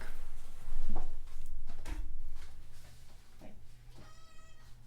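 A house cat meows at a closed door, a few short cries spaced out over a steady low hum, the last one a longer wavering call.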